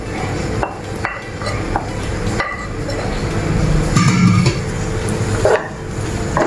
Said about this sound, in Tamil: சோறை இப்போ நாம் மிக்ஸ் பண்ணிடுவோம்.